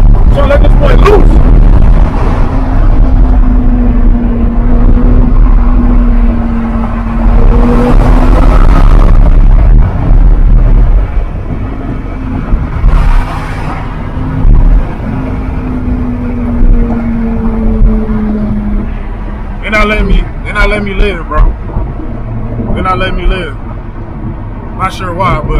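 A 2014 Audi R8 engine drones and shifts pitch as the car drives in traffic toward a freeway with the windows down, the engine note rising and falling under frequent talk from the occupants.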